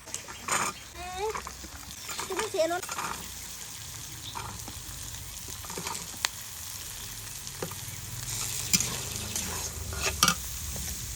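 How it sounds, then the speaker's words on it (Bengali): Carrots and beans fry straight in a pan without boiling first, giving a steady close sizzle with occasional stirring clatter and faint squeaks, while a voice is heard briefly in the background. "এই সবজিগুলোকে একটু বয়েল করে নিলেও হয় কিন্তু আজ আর আমি বয়েল করে নিইনি সরাসরি ভেজে নিচ্ছি"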